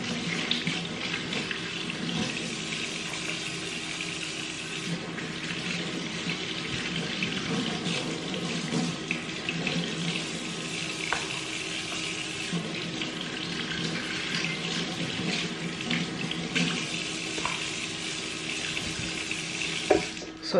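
A kitchen tap runs steadily while shrimp are washed under it, a continuous close splash of water with small clinks and shifts over about twenty seconds.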